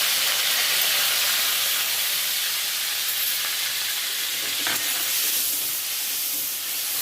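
Ginger and green chili paste sizzles and hisses steadily in a hot pan while a vegetarian paneer mix is cooked, a dense, close frying sound with a faint stir near the middle.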